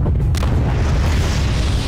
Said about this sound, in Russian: Взрывается бомба вулканическая.